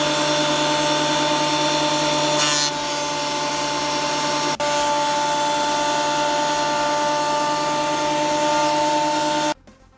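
Thicknesser planing used pallet wood, a loud steady machine drone with a whining hum that runs unbroken for about nine seconds before it abruptly cuts off.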